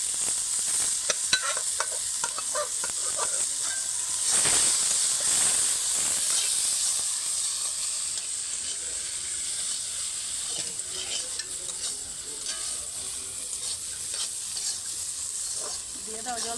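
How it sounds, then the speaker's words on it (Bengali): Spice paste for ghugni fries in a pan while being stirred, a continuous sizzling hiss with scraping strokes and rising bursts, fairly close, with no one speaking. "এবার মশলাটা কষিয়ে নেব।"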